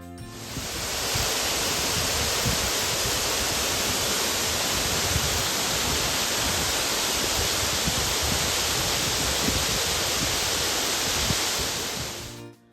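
Tiffany Falls in Hamilton, Canada roars as water crashes down close by in a constant, dense rush of broadband noise. It holds at full strength the whole time, then cuts off at the end. No voices are heard.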